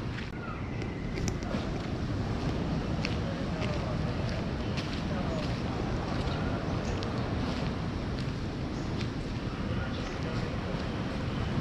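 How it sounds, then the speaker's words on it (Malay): Strong surf rolling onto the sand at Pantai Pelangi beach in Langkawi on a morning with little wind, a constant loud roar of breaking waves with wind buffeting the microphone throughout. "Angin, kurang angin tapi ombak agak kuat pagi ni."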